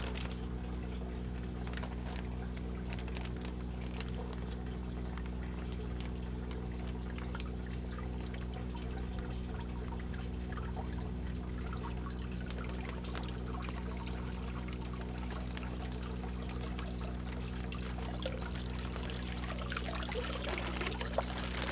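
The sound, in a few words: tilapia fish and water poured into backyard aquaponics tank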